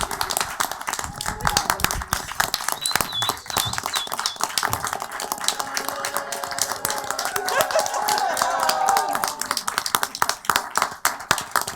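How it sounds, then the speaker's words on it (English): Audience applause fills a city council meeting room, a steady run of clapping hands lasting several seconds at moderate loudness, with some voices murmuring underneath. "So one last round of applause."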